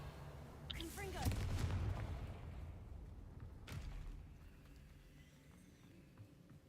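A Confringo fire spell blast in Hogwarts Legacy: a booming explosive burst with scattered crackles and thuds, followed by a second sharper blast, then fading to quieter game ambience.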